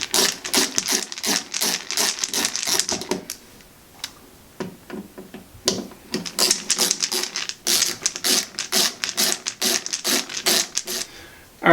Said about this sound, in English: you're going to need to remove the 4 screws to get the wall plate off